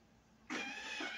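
A Thermomix cooks pea soup vegetables at spoon speed and 100 degrees with the measuring cup removed. After a brief quiet moment it starts abruptly into a steady, close whirring motor hum that runs to the end.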